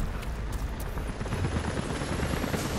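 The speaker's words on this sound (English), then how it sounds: "helicopters are headed your way." Helicopter rotors chop loudly and steadily in the video game Rise of the Tomb Raider, a dense, continuous thudding roar that holds close throughout with no voices over it.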